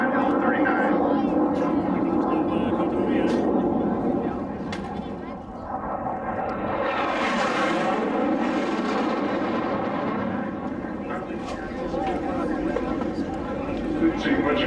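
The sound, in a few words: racing jets flying past at Reno air races, including L-39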